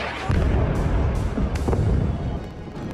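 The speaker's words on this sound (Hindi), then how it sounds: "तेज धमाके के साथ मल्टी स्टोरी बिल्डिंग मिट्टी के ढेर में तब्दील हो गई।" An airstrike explosion brings down a multi-storey building in Beirut, a heavy low-frequency boom with rolling rumble and debris crashes that continues for several seconds.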